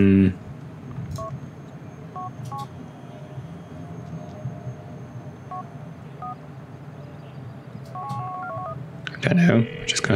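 Telephone keypad tones dialed in Grand Theft Auto 4, a few short separated beep groups over steady in-game background rumble, with a brief louder burst near the end.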